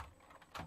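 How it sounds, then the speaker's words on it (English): Typing on a computer keyboard at a desk, a quiet patter of key presses ending in a couple of louder clacks, close and alone. "I should be able to see me typing stuff."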